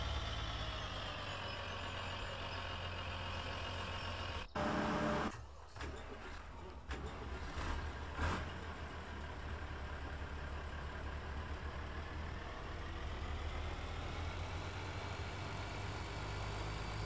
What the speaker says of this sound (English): You know what? I need fuel on this tractor.